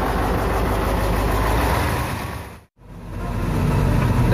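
A Mitsubishi Fuso truck hauling a PC200 excavator labors up a steep mountain grade in Sumatra in first gear, its engine droning loud and steady with one brief dropout before it resumes.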